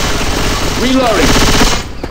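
Sustained automatic gunfire from the Left 4 Dead 2 video game, a loud, dense rattle that runs without pause for about two seconds while a voice speaks over it.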